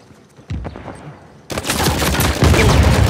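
Gunfire in Uncharted 4, a few sharp shots followed by a loud, sustained burst of rapid automatic fire that builds to the end.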